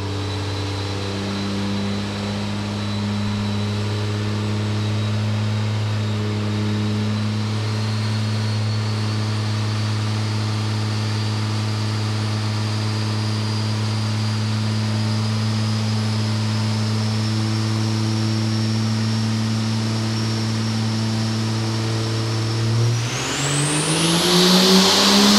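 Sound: race car engine revving during dyno run

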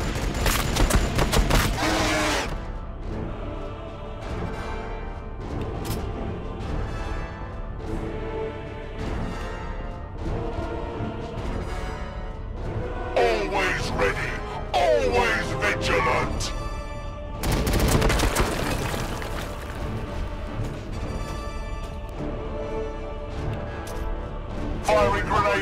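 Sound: gunfire from video game Warhammer 40,000: Battlesector

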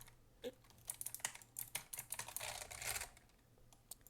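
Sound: computer keyboard typing

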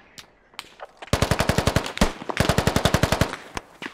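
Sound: machine gun fire in the video game Squad

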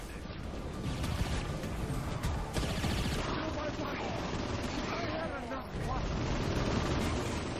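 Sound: gunfire shooting aliens in video game Saints Row IV

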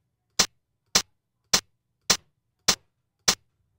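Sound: hi-hat drum sample triggered in Pure Data

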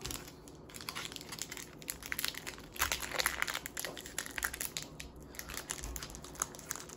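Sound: opening a Pokémon Sun and Moon card pack wrapper

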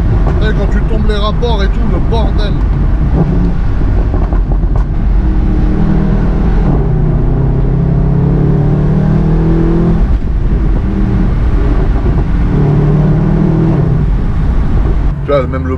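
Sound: Mercedes-AMG V8 engine noise while driving through villages

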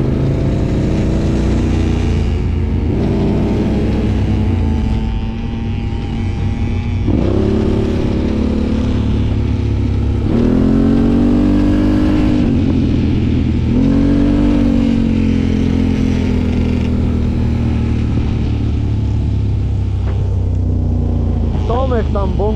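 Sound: ATV quad engine revving while spinning donuts in forest

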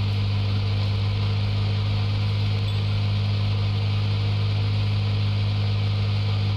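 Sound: loud car engine in video game Police Simulator: Patrol Officers

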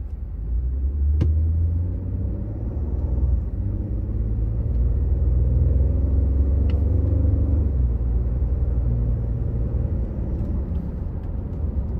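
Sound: 2014 Ford F-150 Platinum 4x4 pickup on test drive

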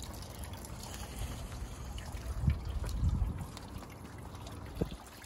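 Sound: water filling a bucket from a fruit tree container

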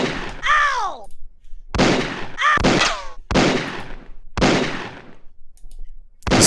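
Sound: gunshots in video game Mystic Midway: Rest In Pieces

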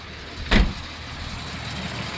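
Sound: Toyota FJ60 Land Cruiser engine running

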